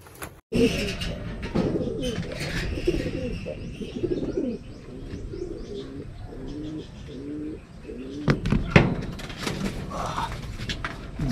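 Racing pigeons coo repeatedly in soft, rolling phrases close by, with a few brighter chirps and light clatter mixed in.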